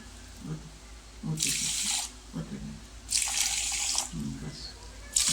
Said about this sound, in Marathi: त्यामध्ये साखर बुडेल एवढे पाणी घालून घेते.